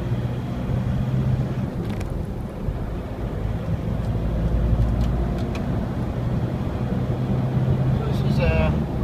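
A 2015 Isuzu D-Max Fury special edition pickup cruising at 60 mph on a country road, giving a steady low engine and tyre drone with some wind noise throughout.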